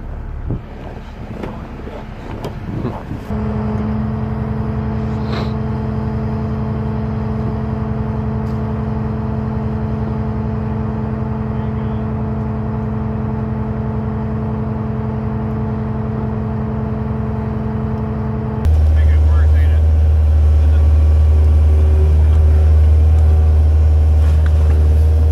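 A stuck excavator's engine runs on the bottom of a lake as the operator tries to turn its tracks, giving a steady low mechanical drone that suddenly grows louder and heavier near the end.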